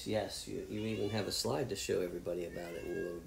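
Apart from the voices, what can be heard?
pet cat meowing in the background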